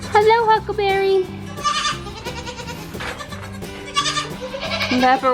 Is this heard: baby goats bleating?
yes